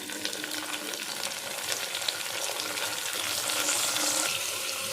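Chopped tomatoes fry in a pan with small fish, giving a steady, close hiss and crackle of sizzling oil that runs without a break and swells slightly toward the end.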